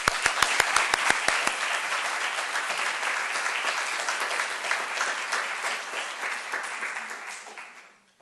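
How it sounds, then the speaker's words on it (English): An audience at a distinguished leaders speaker series breaks into steady applause to welcome a guest speaker, opening with a few distinct claps before dense clapping fills the room and fades out at the end. "Let's welcome her with a round of applause."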